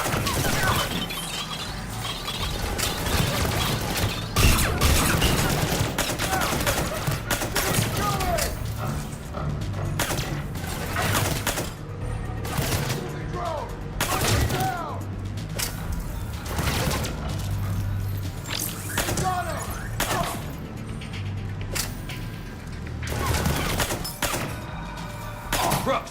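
Gunfire fills a firefight in Mass Effect 3: sharp shots and crashing impacts, with voices breaking in between them.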